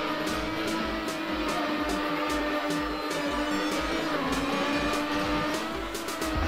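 A truck driving in the video game Trackmania, engine droning steadily with layered tones throughout, tires squealing at times and regular rhythmic ticks marking its steady pace.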